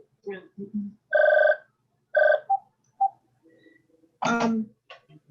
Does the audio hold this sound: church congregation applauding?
no